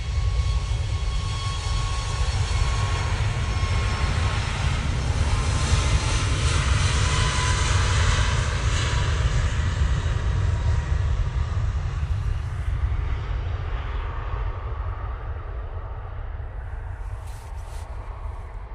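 An airliner departs Manchester Airport bound for Dublin, its engines a loud continuous roar with deep low rumble that slowly fades as it climbs away, no talking heard.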